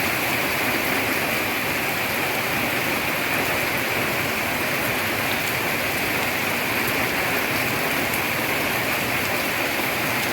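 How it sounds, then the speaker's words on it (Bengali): Heavy rain falls steadily and loudly in an outdoor setting near a banana grove, a constant broadband hiss with no breaks or voices. "ভালোই বৃষ্টি হচ্ছে।"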